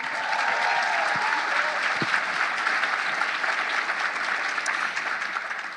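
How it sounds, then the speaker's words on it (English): A room of people applauds student journalists receiving an award, dense and sustained clapping from a sizeable crowd, loud and even from start to finish with a couple of brief thumps in it. "Let's give another round of applause for our first ever Student Journalists of the Year."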